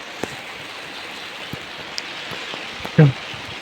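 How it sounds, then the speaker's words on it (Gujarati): Heavy rain falls in a steady, even hiss that washes over everything, with scattered drops tapping nearby and one brief, louder knock close to the end. "આમાં તો વરસાદ જોરદાર દેખાતો હોય"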